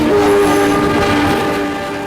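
Train rolling past homes along the railway, loud and close, with a sustained horn blast at the start over a heavy rumbling, clattering roll that slowly fades.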